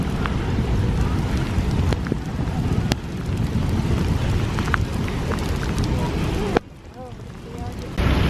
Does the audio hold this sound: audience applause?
no